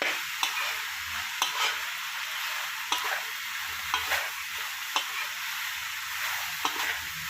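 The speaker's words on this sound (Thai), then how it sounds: "คนคลุกเคล้าไปสักระยะหนึ่งนะครับ" Spicy crispy fried catfish is stir-fried in a pan: a bright, constant sizzle with sharp spatula scrapes and taps recurring roughly every second, close and clear, without talk.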